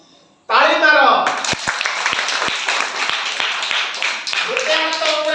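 A group of children in a classroom lesson clapping their hands together, a brisk burst of many claps lasting several seconds, opened and closed by a voice.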